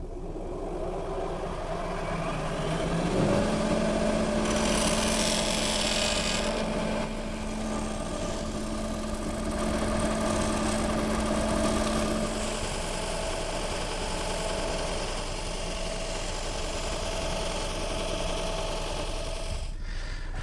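A power sanding center runs steadily on a wood blank for a high chair, giving a continuous motor hum with a sustained tone and a brief brighter grinding burst near the start, loud and close with no talking.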